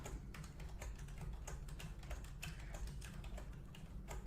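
Computer keyboard typing for Photoshop shortcuts, a quick irregular run of light plastic key clicks heard close and alone over a quiet room hum.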